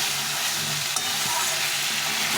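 Spice paste sautés in a pan with a splash of water, giving a continuous close hiss and bubbling sizzle with one soft knock from a spoon.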